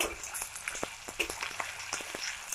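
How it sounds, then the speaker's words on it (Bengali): Onion paste frying in oil with black mustard seeds, a steady close sizzle with small crackles and pops running throughout, no voices. "পেঁয়াজ ভাজা ভাজা হয়ে গেছে"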